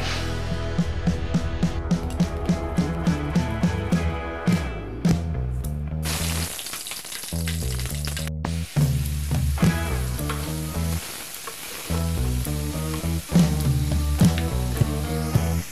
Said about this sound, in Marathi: इथं आता मी पाणी टाकलेलं आहे